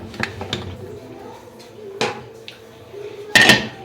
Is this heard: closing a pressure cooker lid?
yes